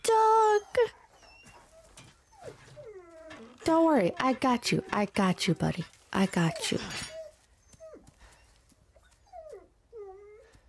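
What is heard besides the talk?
dog whimpering in video game Resident Evil 4 Remake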